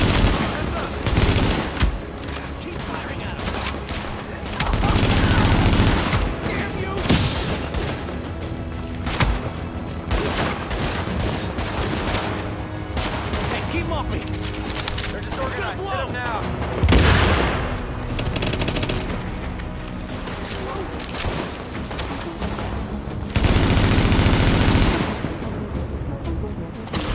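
Automatic and rapid gunfire in the Tom Clancy's The Division video game, with loud close bursts and sustained volleys that repeat across the stretch, some heavier booms among them and voices calling out beneath.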